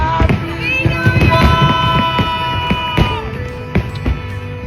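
Fireworks burst at a New Year celebration in Australia, a rapid series of sharp cracks and pops with whistling rising tones, crowd noise and faint cheering beneath, loud and close.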